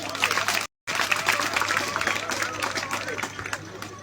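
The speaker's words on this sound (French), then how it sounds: "Il faut les applaudir," A crowd applauding steadily, the clapping dense and continuous with a brief cut of silence near the start, some voices mixed in.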